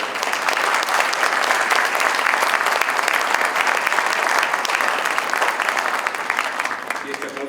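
Sustained audience applause fills a hall after a lecture on nineteenth-century constitutional history at a book fair, the dense clapping steady and loud throughout, easing slightly near the end.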